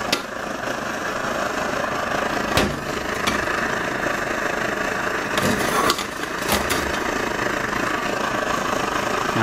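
A Svea 123R camping stove burns with a steady, loud roaring hiss that holds without pause, broken only by a few faint clicks and knocks.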